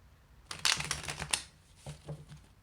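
Tarot cards being shuffled by hand, a quick burst of papery riffling and snapping cards at close range, followed by a few softer shuffles before fading out.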